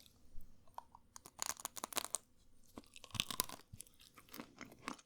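Close, crisp biting and crunching of a frozen Jaffa cake, in irregular bursts with quiet pauses between chews.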